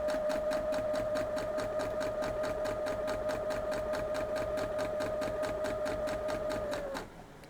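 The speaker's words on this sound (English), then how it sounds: "we're just going to sew down through" A domestic sewing machine stitches 2.5 by 4.5 inch fabric strips for a quilt block in a fast, even, continuous run of needle strokes lasting about seven seconds, then stops abruptly, with a faint hum remaining.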